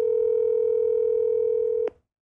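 A steady telephone dial tone hums for about two seconds, then cuts off with a brief click.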